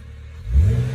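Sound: BMW 330i E92 engine revving

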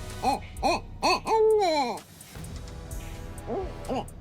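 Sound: barking owl hooting in daytime

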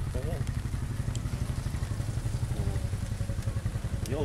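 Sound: motorcycle engine idling

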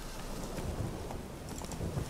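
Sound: rain and thunder in the video game Witcher 3 Hearts of Stone

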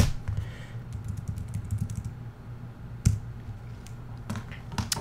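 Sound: typing a password on a Mac computer keyboard

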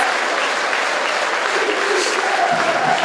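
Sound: football crowd noise

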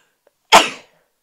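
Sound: sneeze

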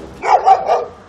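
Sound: dog barking

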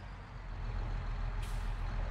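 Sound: truck driving in video game Farming Simulator 22

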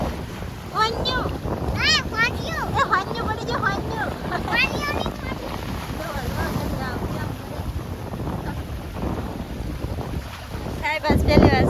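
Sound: wind blowing at sea during a storm

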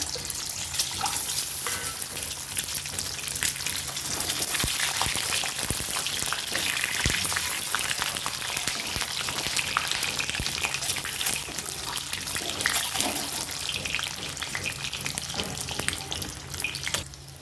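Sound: eggs frying in hot oil in a kadai

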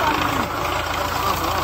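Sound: tractor engine idling

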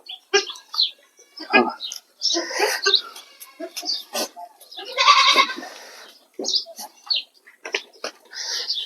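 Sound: goats and kids bleating

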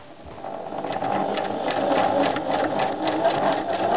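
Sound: sewing machine stitching the side seam of a doll skirt

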